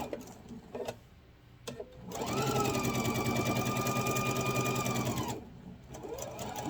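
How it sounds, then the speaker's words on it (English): A close sewing machine sewing a grocery bag starts after a few clicks, runs in one steady whirring burst of about three seconds, then stops before a brief restart as it reverses across the line. "I'm going to come back and sew straight across my line"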